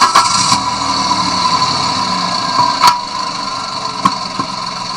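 An engine drone for a video game hallway sound effect: a steady, loud idling hum with a high-pitched whine on top and a few sharp clicks scattered through it.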